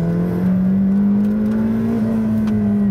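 A McLaren Senna supercar accelerating hard at the Estoril circuit, its engine a loud, continuous drone that climbs slowly in pitch, heard from close by inside the car with no talk over it.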